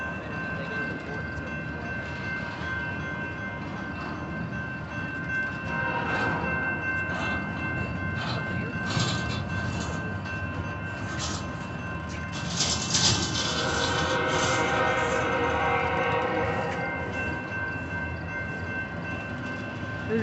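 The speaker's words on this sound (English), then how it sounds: "There's a train near the diamond. There's one coming on." BNSF intermodal freight train hauling empty Baer table cars, led by locomotives 8211 and 6229, rolls steadily past near a diamond crossing, a continuous loud rumble with rising clatter and brighter bursts midway, faint bird calls around it.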